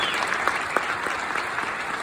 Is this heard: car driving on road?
no